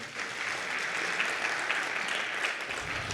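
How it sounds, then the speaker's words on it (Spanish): An audience at an academic talk on alternative pain therapies applauds a doctor as she is introduced, giving steady, even clapping from many hands, fairly soft and distant, continuous throughout. "Por favor, un fuerte aplauso para la doctora Blanca"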